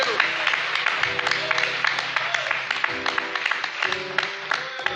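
A church congregation gives scattered, uneven claps for the worship ministers, rising and thinning over several seconds beneath ongoing talk and a sustained musical tone.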